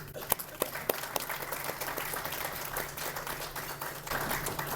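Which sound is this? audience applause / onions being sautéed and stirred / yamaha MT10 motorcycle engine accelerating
audience applause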